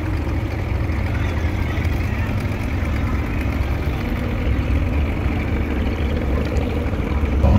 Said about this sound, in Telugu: మనకి పడవ అయితే స్టార్ట్ అవ్వడం జరిగింది